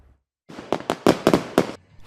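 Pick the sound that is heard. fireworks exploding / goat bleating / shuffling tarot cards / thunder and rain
fireworks exploding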